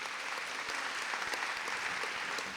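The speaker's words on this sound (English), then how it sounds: "So let's give our Board of Trustees another round of applause." A convocation audience claps steadily for a university Board of Trustees on the platform, a dense, even wash of applause from many hands at moderate distance, continuous throughout with no voices rising above it.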